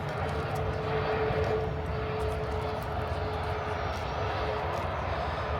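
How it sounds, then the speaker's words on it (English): A Ryanair airliner lands at Manchester Airport, its engine roar a steady broad rumble heard from a distance across the runway, holding constant with a faint low hum throughout. "Ryanair has just landed."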